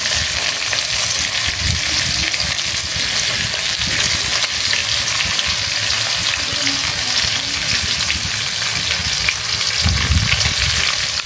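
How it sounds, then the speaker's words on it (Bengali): Fish fries in a pan of hot oil, giving a loud, continuous crackling sizzle that holds steady from start to finish, with occasional soft stirring noises. "এই যে মাছটা ভাজা হইতেছে,"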